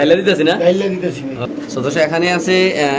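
White king pigeons at a pigeon market make soft throaty cooing calls, close and repeated, mixed in with busy talking voices from vendors and buyers.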